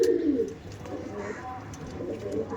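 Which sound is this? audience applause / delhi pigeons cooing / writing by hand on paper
delhi pigeons cooing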